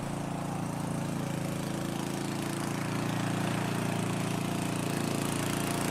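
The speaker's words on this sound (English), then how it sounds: "They're calling him the Lawnmower Man. So I got a little sound for that." A lawn mower engine runs steadily as a sound effect, a loud continuous droning buzz with no change in pace or pitch and no talk over it.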